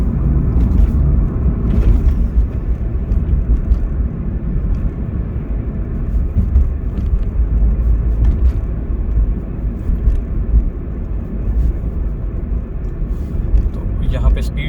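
A car drives along a road and makes a left turn, a steady low engine and road rumble carrying throughout, close and fairly loud, with a person talking over it.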